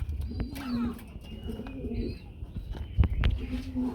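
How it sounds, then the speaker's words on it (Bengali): A male racing pigeon coos in repeated low, throaty phrases at close range, the rolling calls recurring every second or so against faint background noise and occasional wing or movement sounds. "একজন রেসার কবুতর রয়েছে বড় ভাই যেটা ডাকতেছে সেটা তো নর"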